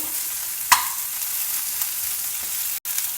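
Sliced onions and chopped green chillies stir-fried in hot oil, a steady close sizzle with a sharp clack of the spatula against the pan early on and a brief dropout near the end.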